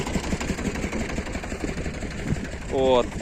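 A universal cultivator fitted with hedgehog weeders, hilling a potato field, idles at low revs, its steady mid-low rumble running beneath a voice.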